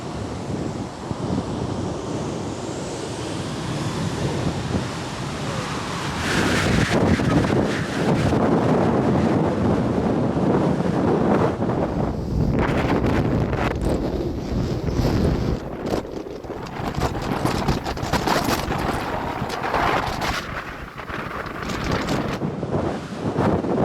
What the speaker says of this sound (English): when that second plane took off, the blast was so powerful, I fell down